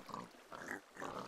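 Minecraft 1.9 pig on a breeding farm, grunting three times in short, nasal oinks with brief gaps between them, fairly quiet and with no voices over it.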